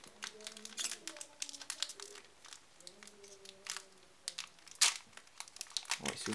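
A Pokémon Rayquaza booster pack from the Dragons Exalted expansion has its foil wrapper crinkled and torn open, with a run of close, crackly rips and rustles coming in uneven bursts.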